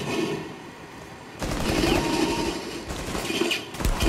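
Gunfire in the Rainbow Six Siege video game, bursts of rapid shots that swell in after a quieter opening and keep crackling in loud clusters, with no voices over them.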